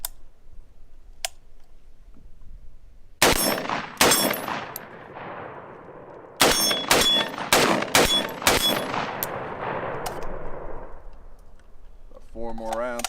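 Gunshots from a rifle fitted with a rechargeable red dot sight ring out at an outdoor range, several sharp reports in irregular succession, each followed by a brief echo, with quiet ambience between.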